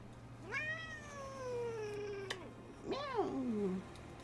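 A cat lets out two drawn-out meows, the first long and sliding down in pitch, the second shorter and wavering, heard up close in a quiet room.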